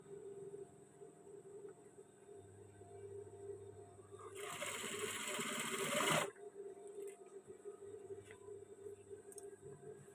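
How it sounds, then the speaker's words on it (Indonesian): Sewing machine stitching a fabric waistband runs in a dense, buzzing burst of about two seconds midway, with quieter handling and background hum before and after. "Nah, selanjutnya kita menjahit, kita awali dari sini"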